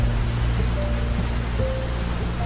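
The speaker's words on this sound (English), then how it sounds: "Standing beside the waterfall, breathing the cool alpine air, and listening to the water echo through the canyon" Steady, broadband rushing of a waterfall echoing through an alpine canyon in the Julian Alps, constant and enveloping, with a low rumble beneath and no voices.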